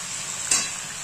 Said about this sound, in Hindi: इसमें अदरक है, लहसुन है, कांदा है और टमाटर है जिसको बारीक पीस लिया गया है, और जैसे ही ये थोड़ा फ्राई हो जाए